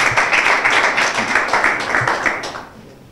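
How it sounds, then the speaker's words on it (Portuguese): An audience at a rap battle event claps for a contestant in a brief burst of close, dense applause that fades out toward the end. "Aplausos para o General D."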